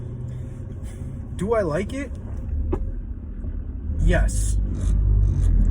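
Deep engine rumble and cabin vibration from a BMW 335i (E9x, N54/N55) fitted with race motor mounts, a steady low drone that swells near the end, with someone talking over it.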